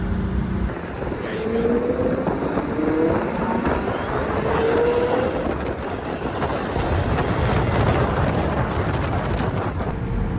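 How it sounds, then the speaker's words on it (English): A Pagani Zonda F Roadster drives in a 40-car Pagani rally leaving Teton Village near Jackson Hole. It gives a loud, steady engine roar with some rising tonal sweeps as it accelerates, and road and wind noise run under it throughout. "I'm actually following my friend in his brand new to him Zonda F Roadster."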